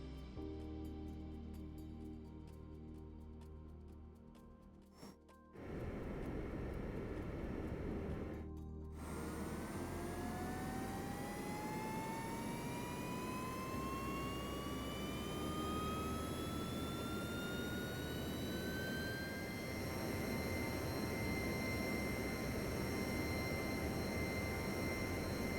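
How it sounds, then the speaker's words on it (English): A JetBlue jet airliner takes off in an airport control game, a low engine hum swelling into a loud spool-up whine that keeps climbing and holds steady as a roaring drone, without any voices. "JetBlue 1320, wind 295 at 5, runway 4 left, cleared for takeoff."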